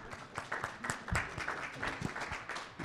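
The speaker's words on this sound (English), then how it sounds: "Please give an applause to." An audience applauding at the close of a talk on grassland production and utilization, with many hands clapping in a loose, crackling patter that stays fairly soft and steady.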